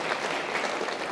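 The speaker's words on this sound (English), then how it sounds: "You all should be like clapping." An audience at a university lecture on energy claps in a brief, dense burst of applause, loud and continuous.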